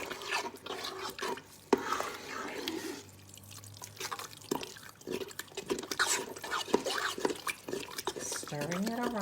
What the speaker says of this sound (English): Stirring it around.